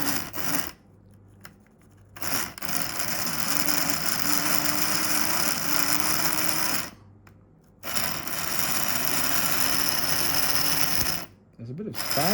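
A Tri-ang R159 model locomotive long kept in storage runs under power in bursts, its small motor giving a loud buzzing, ratcheting whir that cuts out abruptly several times and restarts.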